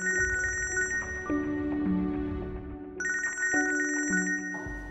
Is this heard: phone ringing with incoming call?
yes